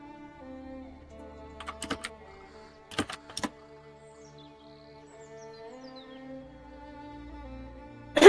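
A few short bursts of keyboard typing, key clicks clustered in two brief flurries, over a quiet tonal background with a sharp noise at the very end.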